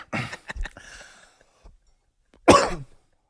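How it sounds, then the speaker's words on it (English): A man coughs indoors, a rough burst of short coughs near the mic, then a pause with small throat sounds before one more sharp, louder cough. "I literally was just coughing."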